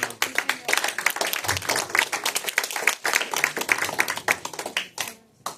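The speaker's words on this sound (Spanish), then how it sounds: "Dale un aplauso a Cristo" A church congregation claps in rhythm, sharp hand claps in a fast steady pattern filling most of the stretch before the clapping breaks off near the end.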